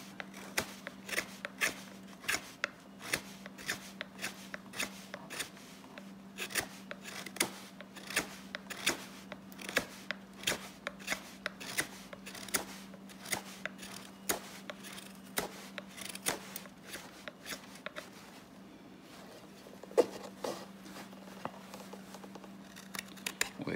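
A Morakniv 162 double-edge hook knife carving wood, giving a steady run of short, crisp scraping cuts in an irregular rhythm, close and fairly quiet over a faint constant hum, with no talk.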